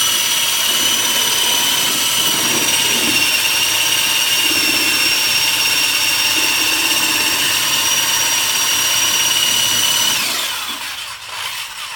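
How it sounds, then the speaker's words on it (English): A power drill whirs loud and close as it stirs ceramic glaze in a bucket, a steady high-pitched motor whine holding for about ten seconds before winding down near the end. "When I mix the glaze, I put the drill into the glaze bucket all the way down,"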